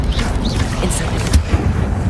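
A fire spell cast in the Hogwarts Legacy video game makes a short boomy burst with low rumbling thuds, heard during game combat.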